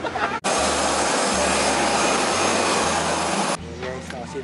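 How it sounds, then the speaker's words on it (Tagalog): Engine noise inside an airplane cabin makes a loud, steady roar and whoosh that starts abruptly and cuts off near the end, with a brief voice around it. "nandito na tayo sa aeroplano sa loob"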